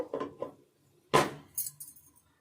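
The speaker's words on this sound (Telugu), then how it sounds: "ఇప్పుడు మూత పెట్టుకుందాం కొద్దిసేపు" Metal clinks and a sharp clatter sound as a lid is set on a cooking pot of tomato chutney, with a few lighter rattles afterward in a quiet kitchen.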